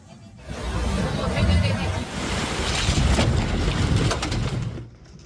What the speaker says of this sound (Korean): 주변을 빙빙 돌며 파도를 일으키는 어선.